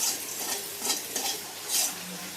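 Green chilies and onion fry in a pan, a continuous close sizzle with stirring swells and soft utensil scrapes, no voices.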